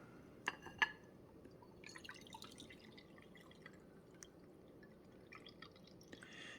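Coffee dribbling out of a reusable Perfect Pod K-Cup with a paper filter, a quiet trickle with a few sharp drips early on and scattered small splashes over soft background noise.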